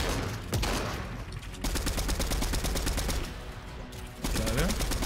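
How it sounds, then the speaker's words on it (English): Bursts of rapid SMG fire crackle in a Fortnite match, fast rattling volleys with brief gaps, mixed with game effects and a player's voice talking over them. "He's gonna try to use SMG, but we have to hit our shots."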